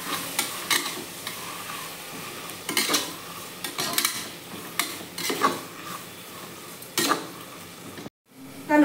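Mint and coriander leaves stirred in a frying pan, with repeated scraping and clinking of a utensil against the pan over a low sizzle, close and fairly steady, ending in a brief pause.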